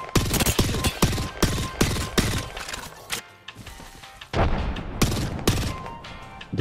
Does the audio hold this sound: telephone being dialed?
no